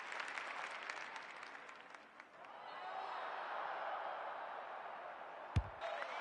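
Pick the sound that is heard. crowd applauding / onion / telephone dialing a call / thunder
crowd applauding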